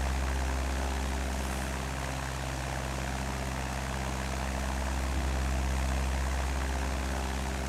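A small propeller airplane's engine drones at a steady, loud, unbroken pitch during a climb out of Boron Airstrip, filling the cabin alone with a constant broadband roar and a low throbbing hum.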